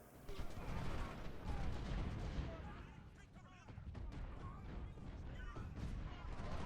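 Cannon fire in Ultimate General Civil War at Brandy Station booms in a dense, continuous rumble of artillery and musketry from mid-distance, with scattered sharper reports throughout.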